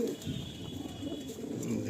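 Pigeons at a hobby loft give soft cooing calls under a voice, a low steady murmur of coos across a short stretch.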